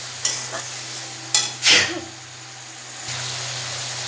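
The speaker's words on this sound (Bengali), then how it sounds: "এবার ভালো করে আর একটু কষিয়ে নিচ্ছি" Pointed gourd (parwal) is stir-fried in a pan, a close hiss of sizzling oil broken by a few sharp scrapes and stirs of the spatula, with a low steady sizzle continuing afterward.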